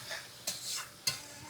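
Chopped tomato and spices are stirred in a pan, giving quiet scraping strokes with two brief sharper scrapes of the utensil, over a soft low sizzle, close and without talk.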